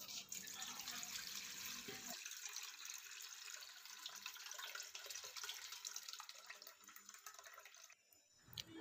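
Water poured and draining off soaked lentils (dal) in a kitchen, a steady close splashing trickle with a louder rush at the start that thins out, then a brief splash near the end.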